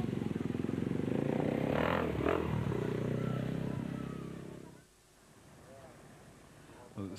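Rally motorcycles such as a KTM 660 rally bike roar at the UAE Desert Challenge stage start, a loud steady engine drone with a passing swell that drops away abruptly near the end, leaving quieter rumble and wind.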